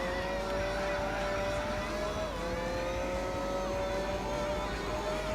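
Gran Turismo 4 race car running on nitrous, a steady high whining engine tone with a smooth continuous drone that holds loud and close throughout, with a brief dip in pitch midway.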